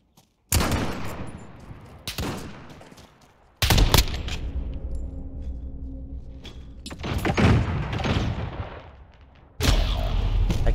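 Shotgun or sniper fire in a Call of Duty multiplayer match, several loud isolated blasts spaced seconds apart, each with a sharp onset and a decaying tail, separated by quieter stretches.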